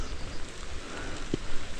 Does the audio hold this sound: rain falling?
yes